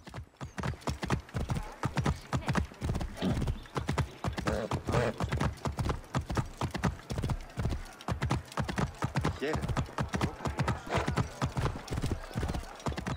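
Rapid rhythmic hoofbeats of a galloping horse in Assassin's Creed Origins, close and continuous throughout, with a brief whinny-like tone mixed in.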